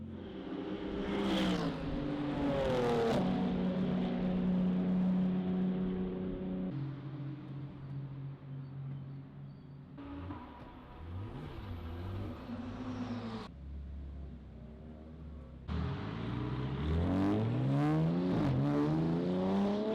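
A GT4 race car at full throttle on track laps, its engine note loud and close, climbing and dropping through gear changes with rising and falling whine between shifts, no talking.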